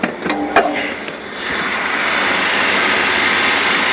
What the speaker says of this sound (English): Got a little belt squeal.